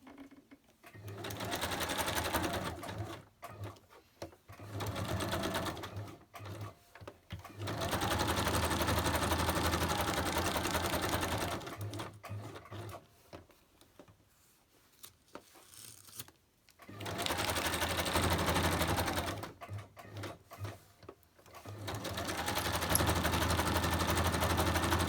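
A sewing machine zigzag-stitches in several bursts of rapid, steady whirring. Short quiet pauses separate the runs, and each burst runs for a few seconds at a time.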